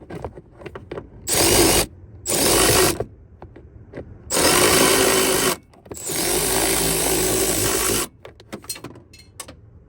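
A ratchet loosens an 8 mm bolt on a 2010-or-later Ford F-150 during a driver-side bulb replacement, clicking in four loud bursts of a second or more, close up, with small taps and clicks between them.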